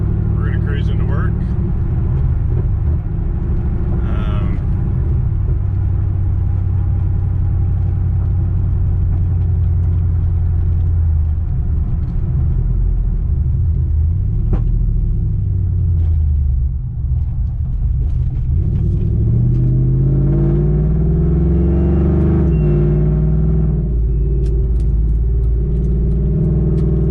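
A car cruising along the road on the way to work, its engine a steady low rumble throughout with tire and road noise and a few passing vehicles, continuous and close inside the cabin.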